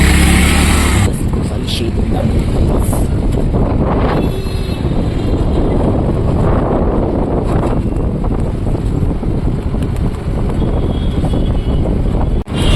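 Steady traffic on a busy road near a railway station in Nagpur, a continuous broadband rumble of passing vehicles mixed with wind buffeting the microphone, with a voice talking over it.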